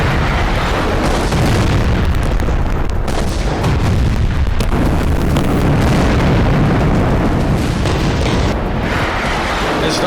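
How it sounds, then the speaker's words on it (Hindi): Heavy Israeli airstrike bombing in Gaza: loud, sustained booming explosions and rumbling blasts fill the whole stretch with dense, close low-end roar and no speech. "इसलिए यहां भीषण बमबारी की गई।"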